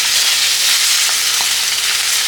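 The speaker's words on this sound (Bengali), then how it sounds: "কমপ্লিট, মাছ ভাজা হয়ে গেছে।" Pomfret fish frying in hot oil, a steady close sizzle and hiss running unbroken throughout, with a couple of faint soft knocks partway through.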